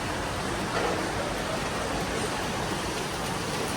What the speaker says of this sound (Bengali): দেখো অনেক বৃষ্টি হচ্ছে